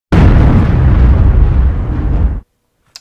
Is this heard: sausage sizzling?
no